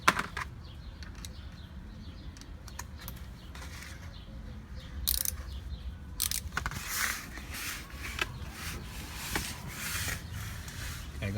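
A ratchet and socket break loose the oil drain bolt on a 2016 Toyota RAV4 XLE, producing faint clicking mechanical sounds and scraping at close range under a low background hum.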